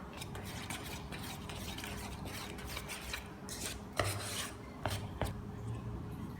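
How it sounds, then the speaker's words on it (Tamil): Coffee bun dough of flour and egg being mixed in a bowl, a soft steady stirring and rubbing with a few light knocks of a utensil, close and fairly quiet, without talk. "இதையும் விட்டு நாங்கள் இப்போ இதை குழைக்க போகிறோம்."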